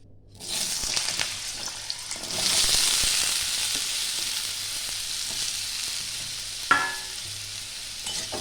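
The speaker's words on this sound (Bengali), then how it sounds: "আলুগুলো একটু ভাজা ভাজা করে নেব" Cut potatoes fry in mustard oil in a kadai with a steady, loud sizzle that swells after a couple of seconds, with a single utensil clink near the end.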